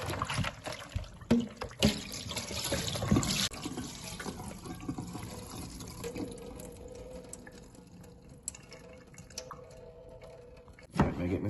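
Goat meat gets another rinse under a running tap in a sink, steady trickling and splashing water with occasional knocks and clatter throughout.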